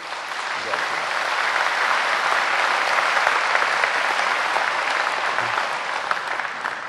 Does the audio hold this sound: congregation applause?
yes